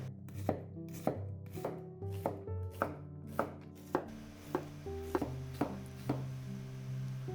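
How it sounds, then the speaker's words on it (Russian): A knife chops through onion on a board, around a dozen crisp, evenly spaced cuts close up, with musical background playing underneath. "нарезаю лук."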